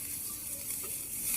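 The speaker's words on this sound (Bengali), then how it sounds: "আবারও তেল দিয়ে দিলাম, তেলে জিরা ফোড়ন দিয়ে দিতেছি, কিছু পেঁয়াজ কুচি দিয়ে দিলাম" Chopped onion and cumin seeds frying in hot oil in a village kitchen, a steady close sizzle throughout with no talking.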